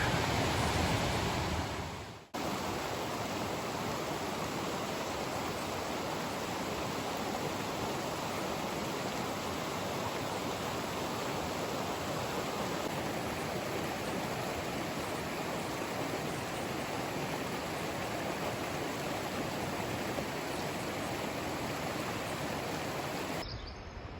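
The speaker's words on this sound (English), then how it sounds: "Let's take a walk down here and look at the creek, which is right across trail from camp." A mountain creek rushing through a canyon in Colorado's Eagles Nest Wilderness, a steady, dense, close-up flow of water that starts after a brief cut and runs on unbroken without talk.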